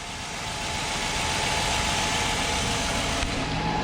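A Chevrolet Tahoe engine idles after a belt and misfire repair, a steady close mechanical hum with constant low rumble and no voices.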